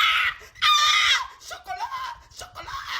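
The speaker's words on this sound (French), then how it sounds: "elle crie." A woman screams in a loud, shrill, sustained cry, heard close and mixed with other voices.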